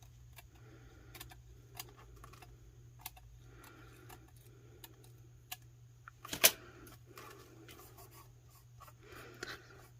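Quiet scratchy rubbing and scraping strokes as a decal is burnished onto a tumbler, in short bursts, with a few light taps and one sharper click, close up over a low hum.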